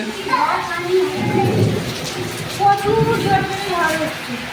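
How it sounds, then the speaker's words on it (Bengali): Heavy rain pours during a violent storm, with a constant wash of rainfall and low thunder rumbling through, while a person talks over the downpour. "যেরকম বৃষ্টি হচ্ছে সেরকম ঝড় হচ্ছে"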